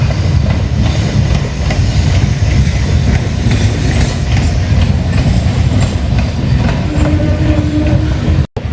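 A train approaching along the riverside near Millennium Park in Kolkata, a loud heavy rumble with rhythmic wheel clatter growing and holding steady, briefly cutting off at the very end, no voices.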